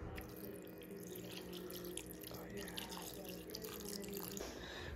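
Citrus juice poured into a bowl of cut raw fish for ceviche at a Big Sur campsite, a steady liquid trickle and splash running throughout, with faint voices in the background.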